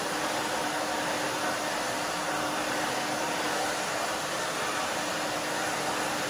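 A hair dryer blows steadily while drying freshly cut short bob hair. The airy, broadband roar is loud, constant and close, with no pauses or voices.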